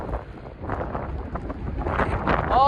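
Strong wind gusting at a beach at night, buffeting the microphone with a loud, uneven rumble that builds toward the end, with no one speaking.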